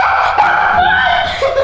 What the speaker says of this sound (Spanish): Se asusta por un perrito.